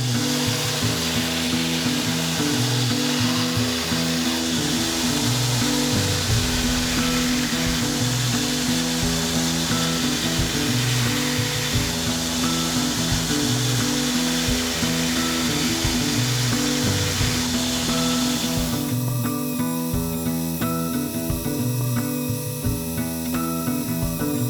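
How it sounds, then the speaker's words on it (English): A power grinder runs continuously against a 23-inch mosaic Damascus steel Bowie knife blade, a loud steady whine with a rough grinding hiss that shifts in tone toward the end. "I need to carefully grind right to the line."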